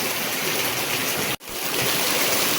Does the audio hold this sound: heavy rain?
yes